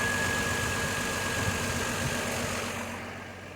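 A 2002 GMC Envoy with the 4.2-liter inline-six idles smoothly after a fuel pressure regulator repair, giving a steady low engine drone with a faint whine and no talk, easing slightly at the end.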